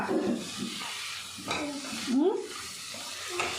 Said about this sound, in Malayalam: ഇതൊന്ന് ഇളക്കിയിട്ട് എടുക്കാം കേട്ടോ.